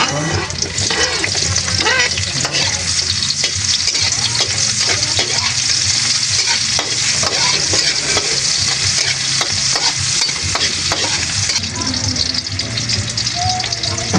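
Onions stir-fried in a pan, added after garlic, make a loud, constant sizzle with rapid scraping and clattering of the spatula throughout, close to the ear.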